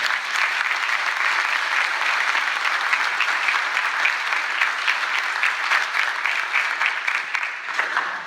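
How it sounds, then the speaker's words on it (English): An indoor audience at a Camden mayoral campaign event claps in sustained, dense applause that holds steady for several seconds before tapering slightly. "let's give us a round of applause"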